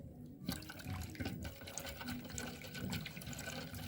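Clean water pours out to test homemade washing powder, a close, splashy, uneven stream with gurgles and drips that starts abruptly after a brief quiet moment, with no voices.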